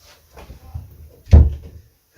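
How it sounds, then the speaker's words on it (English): An indoor door is pushed shut, with a soft rustle of movement and then one close, solid thud that dies away quickly before near-silence. "I'm going to shut this door because they're very loud as well."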